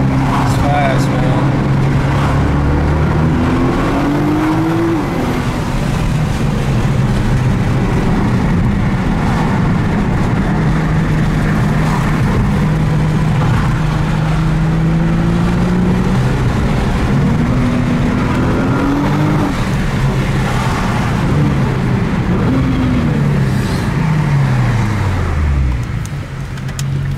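A Nissan GTR engine revs and accelerates from inside the car, a loud continuous drone rising and falling through gear changes, with a voice talking over it.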